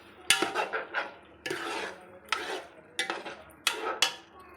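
Spoon clanks and scrapes against a metal pot while curd is stirred into masala gravy, a series of sharp, close knocks and rattles in short bursts with quiet pauses between.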